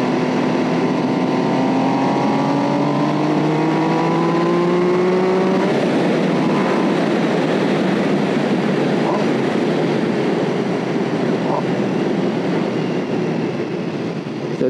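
A motorcycle engine revs hard and climbs through the gears, a loud sustained roar with rising tones that shifts pitch partway through and keeps droning at high volume.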